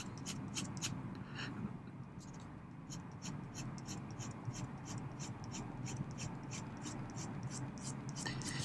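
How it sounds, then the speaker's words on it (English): A Platinum fine-nib fountain pen writing in reverse on paper, giving soft, close scratchy strokes in a quick, repeated rhythm over faint background hiss. "And let's see how it reverse writes."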